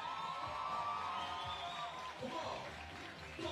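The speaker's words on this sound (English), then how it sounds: "You can feel the crowd here." Spectators at a women's U18 3x3 basketball quarter-final between Hungary and Russia in Debrecen create a steady, moderately loud crowd murmur with scattered cheers, filling the whole stretch without a break.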